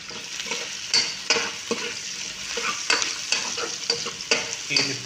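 Ginger sizzles in a hot pan for chicken tinola, frying steadily as a utensil scrapes and stirs it in repeated strokes, close and busy.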